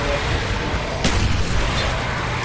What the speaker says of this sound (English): We have two nades that we're gonna throw and then we're gonna get out of here.